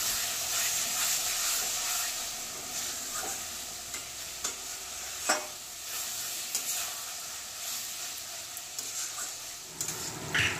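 Mutton curry sizzles steadily in a pan with a constant frying hiss, broken by occasional scraping clicks as it is stirred, fairly near and alone without voices.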